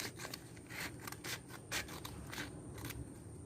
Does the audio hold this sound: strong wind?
no